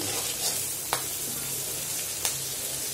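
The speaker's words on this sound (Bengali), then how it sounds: "এটা কতক্ষণ একটু ভেজে নিতে হবে।" Food fries in a pan with a continuous bright sizzle, broken by two sharp clicks of a utensil against the pan.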